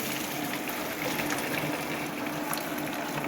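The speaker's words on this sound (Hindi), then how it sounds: "मटर उबल गए अल्हम्दुलिल्लाह, इसको स्ट्रेनर की मदद से छान लेंगे।" Boiled peas are drained through a strainer in a home kitchen, giving a steady close rush of pouring, splashing water that runs unbroken throughout.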